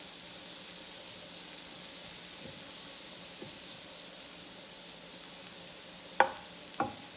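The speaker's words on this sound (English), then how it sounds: "add my Zoodles. Put all that in there. They can just cook together." Zucchini noodles cook in a pan with salmon nearby, giving a soft, steady hiss of gentle sizzling that ends with two sharp utensil knocks close together.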